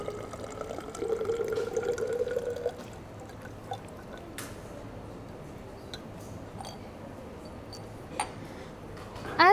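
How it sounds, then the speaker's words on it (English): Buffer solution pours into a laboratory measuring cylinder in a short, soft liquid trickle near the start, followed by quiet room noise and a few faint taps. "I am going to pour all my solution in that particular measuring cylinder without the stir bar"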